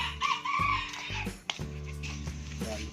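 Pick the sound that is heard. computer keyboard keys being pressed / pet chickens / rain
pet chickens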